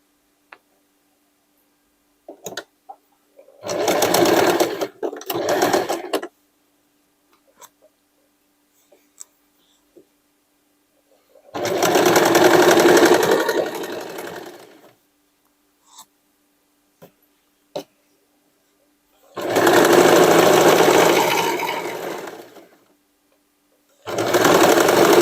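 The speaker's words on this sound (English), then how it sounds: "Here again I will make my triple zigzag" A sewing machine runs a triple zigzag stitch on denim in three separate loud bursts of rapid mechanical stitching, each a few seconds long, with quiet pauses and small clicks between them.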